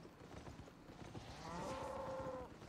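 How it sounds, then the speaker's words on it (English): A cow lows once in the video game Albion Online, a long mid-pitched moo over busy in-game background noise with clip-clopping footsteps. "Yes, moo. First moo."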